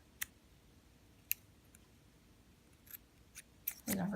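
Scissors snip the thread tail off a knotted stitch on sock fabric for a stuffed ball toy, giving a few sharp, close clicks spread over a quiet background, ending in a louder burst.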